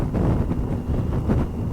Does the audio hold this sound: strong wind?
yes